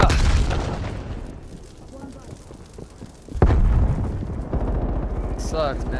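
A frag grenade blowing up in the Call of Duty video game, landing as a sudden loud booming burst partway through, with rumbling gunfire and game noise before and after and a voice talking over it.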